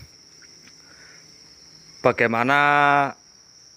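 Crickets in a cricket breeding cage keep up a thin, steady high-pitched trill throughout, while a nearby voice speaks briefly over it toward the end.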